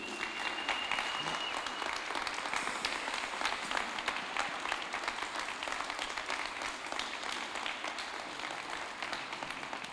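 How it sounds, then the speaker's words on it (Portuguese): A church congregation gives a sustained round of applause for Jesus during a Sunday service, steady dense clapping heard from some distance without talk over it, holding evenly for about ten seconds. "Uma salva de palmas para Jesus."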